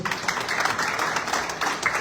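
A brief stretch of continuous applause from a seated audience at a Zimbabwean embassy event in Namibia, an even wash of overlapping claps at moderate volume with no break.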